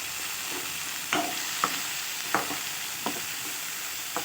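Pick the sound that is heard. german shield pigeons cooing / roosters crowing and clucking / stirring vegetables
stirring vegetables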